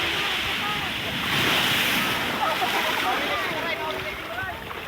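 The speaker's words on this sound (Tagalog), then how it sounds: "Problema po ngayon, medyo maalon yung dagat." Rough sea waves churn and wash steadily near a small fishing boat, a broad continuous roar of surf and water with wind noise buffeting the microphone.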